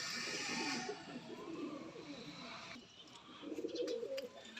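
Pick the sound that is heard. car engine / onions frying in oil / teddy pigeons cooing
teddy pigeons cooing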